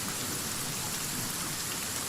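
Steady, dense rain patters continuously on surfaces, an even, close hiss of falling drops playing alone as a background ambience.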